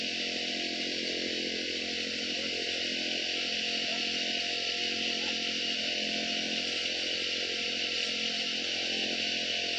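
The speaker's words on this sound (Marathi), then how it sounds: "थोडा वेळ गेल्यानंतर मशीन चालू झाली आणि आता आम्ही फवारणी का सुरुवात केलेली आहे" A motorized pesticide sprayer engine runs steadily in a cashew orchard, a loud, continuous high-pitched two-stroke whine with no pauses or voices.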